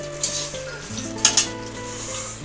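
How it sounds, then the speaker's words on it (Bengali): Dal for khichuri frying in a pan, a steady close sizzle with a couple of sharp clinks and scrapes of utensil against metal partway through; no voices. "এবার আমি খিচুড়ির ডালটা এই সাইডে ভেজে নিই"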